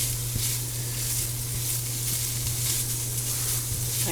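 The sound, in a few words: ham and potatoes sizzling while cooking in a pot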